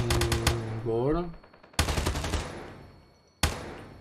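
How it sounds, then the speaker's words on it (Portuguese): Gunfire from an HG-40 in a video game: a rapid burst of shots opens the clip beside a rising synthetic tone, then two loud, sharp single reports ring out with decaying tails. "Vou dar um tiro, vou dar um barulhinho."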